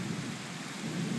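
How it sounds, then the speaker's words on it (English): A brief, steady rumble of distant thunder blended with heavy monsoon rain noise, heard from under a covered bridge, with no voices. "thunder."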